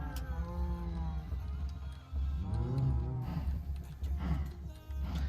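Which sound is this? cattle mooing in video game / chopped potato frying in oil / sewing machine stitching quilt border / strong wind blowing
cattle mooing in video game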